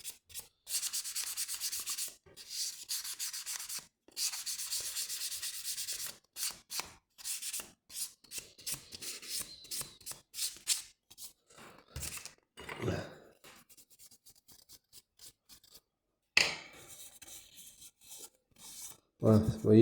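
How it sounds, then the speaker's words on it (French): A hand sanding job with an abrasive sponge on a bakery van body panel: repeated close, raspy rubbing strokes in bursts separated by short pauses, with occasional thunks and brief breathy sighs. "un petit coup de papier abrasif"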